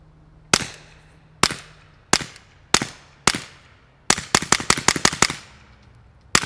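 A Smith & Wesson 22x fires 40 grain CCI Mini-Mag rounds, first in single sharp cracks spaced about a second apart, then a quick rapid string of shots, loud and close with short decays.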